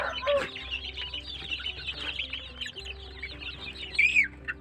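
Many small village chicken chicks cheep continuously in a busy chorus on a farm, high and close, with a few louder peeps standing out near the end.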